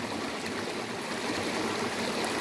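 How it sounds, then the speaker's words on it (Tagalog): A stream flowing steadily after recent rain and flooding, heard up close as a continuous broadband rush and trickle with no voices. "sapa na yan papunta doon sa taas"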